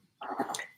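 A dog gives a short, close whimpering whine lasting under a second, with a faint breathy edge and no talk over it.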